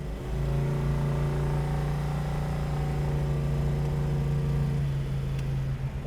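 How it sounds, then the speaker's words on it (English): A 1970 Dodge Dart's engine holds a steady, throaty mid-pitched drone with strong low harmonics while driving, the revs shifting slightly as the driver downshifts, close and loud throughout. "You can pretty much, you know, RPM it up, shift when you want to, shift back down like I'm about to do here."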